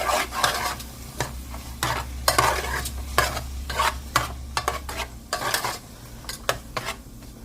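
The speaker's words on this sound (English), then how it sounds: "We're going to stir this up." Spiced vegan chicken pot pie filling stirred in a pan, brisk rhythmic spoon scrapes and clatter against metal over a steady sizzle, close and busy, with a low hum underneath.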